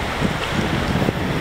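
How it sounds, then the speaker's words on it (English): Strong wind blows steadily at a wooded winter portage trail while camping, a constant close roar of buffeting gusts against the microphone with no talk. "it's really windy"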